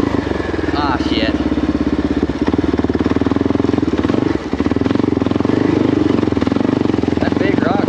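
A Kawasaki KLR650 motorcycle crawls off road in low first gear, its single-cylinder engine droning loud and close with a steady, slightly uneven throb.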